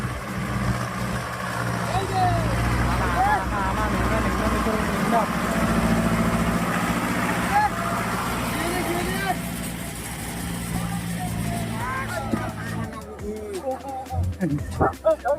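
A tractor engine labours as the tractor nearly gets stuck in wet mud, a loud, steady low rumble throughout, with voices talking over it and a rougher, uneven stretch near the end.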